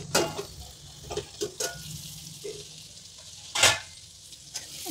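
A spatula stirs frying methi sabji with kadima in a pan, a low sizzle punctuated by irregular scraping strokes, one louder clatter near the end.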